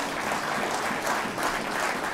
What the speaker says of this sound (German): Ich bitte Sie um einen kräftigen Applaus.